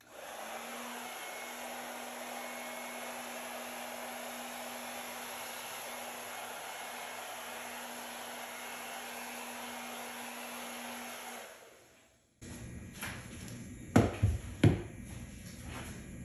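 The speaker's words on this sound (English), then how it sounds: "so you don't have to listen to the sound of my hairdryer" A powerful hair dryer blows with a loud, steady airflow roar for about twelve seconds, then cuts off, followed by a few clattering knocks and handling noises.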